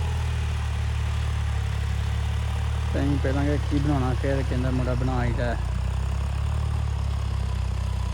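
A tractor engine idles steadily while warming up, a constant low rumble throughout, with someone talking over it midway.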